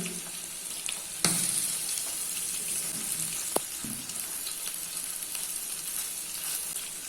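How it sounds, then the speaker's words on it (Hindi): Chicken pieces for butter chicken frying in a pan with the lid open, giving a steady broadband sizzle throughout with a couple of sharp clinks, and no talking. "चिकन के पीसेस दूसरी साइड से भी अच्छे से फ्राई हो चुके हैं"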